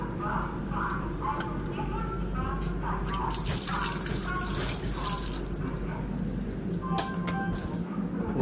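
A tap runs hard into a steel basin in the washroom of an Indian Railways second or first AC coach, a steady splashing rush, with someone talking over the flow.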